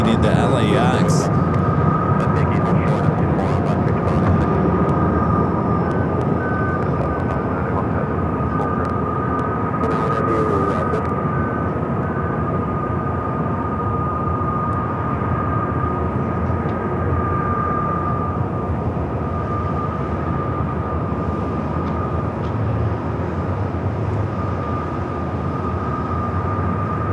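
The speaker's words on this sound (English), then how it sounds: "people were tracking this C-17 heading into LAX" A C-17 military transport plane at LAX gives off a continuous, fairly loud jet roar with a steady whine, and voices sit faintly underneath.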